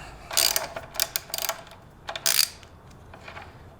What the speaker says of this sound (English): So I'm gonna back off the pinch bolts.